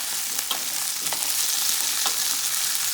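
Thinly sliced eddoes being stirred into a hot frying pot, with a steady bright sizzle and occasional scraping clinks of the spoon, close and continuous.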